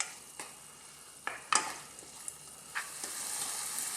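Thai pork fried rice sizzles steadily in a hot pan, with several sharp scraping stirs at irregular intervals, close and moderately loud, the frying hiss building toward the end.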